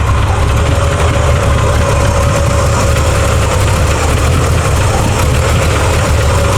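A cold 350 V8 idling in a 1983 Chevy C10, a loud, steady, rumbling low idle close to the engine, rough and rowdy throughout with no talk.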